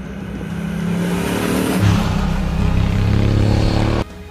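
Honda Africa Twin CRF1000L from 2016, a 270-degree parallel-twin with Unicam four-valve heads, riding along with a steady, loud engine drone that climbs slightly in pitch midway and ends abruptly.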